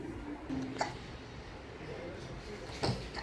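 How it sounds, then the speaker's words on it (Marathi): A young girl at home in the morning hiccups twice, once early and once near the end: short, soft jolts over quiet room noise, with faint speech around them. "उचकी लागली का?"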